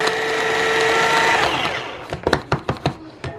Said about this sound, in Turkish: Hepsini bunları şimdi blenderdan geçireceğim.